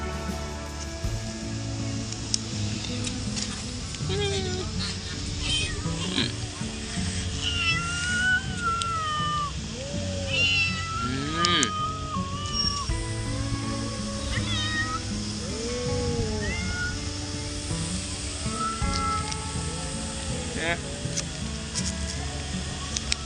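A pregnant cat meowing again and again, high wavering cries spread across a steady background hiss, with a voice softly talking to it now and then.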